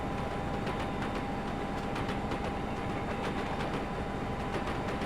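A tram on the Haddencott Tramway in Trainz TRS19 clanks and rattles without a break, with loud rhythmic wheel clatter over a dense rumble and a steady whining tone, close and unbroken.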